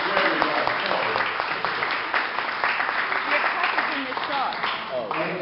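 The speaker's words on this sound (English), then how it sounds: "Please put your hands together." Steady applause from a comedy club crowd at a live stand-up show, continuous clapping throughout with voices mixed in underneath.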